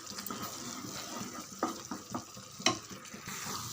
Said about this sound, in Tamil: நம்ம ஒரு 2 நிமிஷம் நல்லா கலந்து விடுங்க.